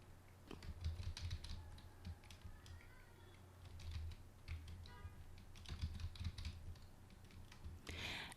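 Steady typing on a computer keyboard, close and fairly faint, with irregular clusters of key clicks running throughout and no voices.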